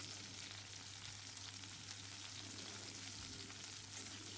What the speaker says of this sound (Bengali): আমি ফুলকপিটা ভালো করে ভেজে নিচ্ছি